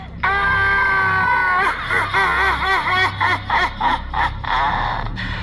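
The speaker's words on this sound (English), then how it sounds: "And wouldn't you know it, she screamed again." A woman's loud, high-pitched scream held for about a second and a half, then breaking into shaky, pulsing wails and sobbing cries, close and intense.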